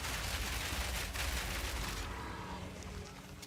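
A string of grenade blasts in the action RPG Path of Exile 2, loud overlapping bursts crackling densely for two seconds before thinning into a duller, quieter rumble.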